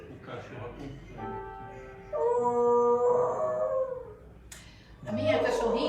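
A dog howls in drawn-out, wavering tones, joining in as a person sings, with a rising yelp near the end; the voice and the howling overlap at close range.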